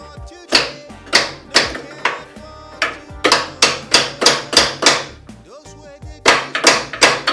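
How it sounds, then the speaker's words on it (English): Repeated hammer blows on the rear end of a 1971 Volkswagen Super Beetle during teardown, loud sharp metallic strikes in quick bursts with short pauses between groups. "With my hammer."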